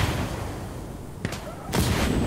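Gunfire in the tactical shooter game Insurgency: a couple of sharp reports cracking out over a dense, noisy battlefield background, with a louder burst near the end.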